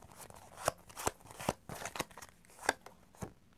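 Oracle cards being shuffled by hand for a draw during a tarot reading: a run of quiet riffling and soft papery rustles, punctuated by a handful of sharper card snaps spaced irregularly, close and fairly faint, with no voice.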